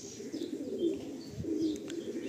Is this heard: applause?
no